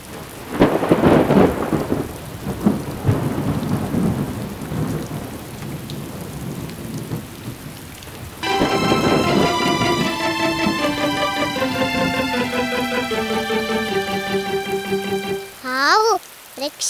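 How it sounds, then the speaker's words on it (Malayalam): A cartoon thunderstorm breaks with rain: a loud thunder crash opens, followed by a steady hiss of rain on surfaces, later overlaid by a bright melodic music sting, with a brief sliding effect near the end. "അയ്യോ, മഴ വരുന്നു."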